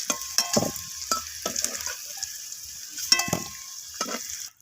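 Potatoes fry softly in oil until reddish, with a low crackle, broken by scraping and stirring knocks at an uneven pace.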